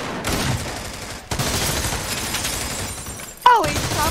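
Bursts of rapid gunfire in the tactical shooter America's Army: Proving Grounds, fired in a hospital interior map, dense and continuous with a sharp louder shot near the end and faint voices beneath.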